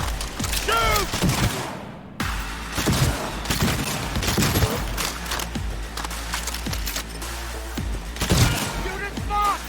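Firefight gunfire in Cyberpunk 2077 makes rapid bursts of loud close shots and mechanical clatter, with brief shouted voices mixed among them.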